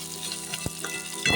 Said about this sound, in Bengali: দিয়ে আলুটা ভাজা হচ্ছে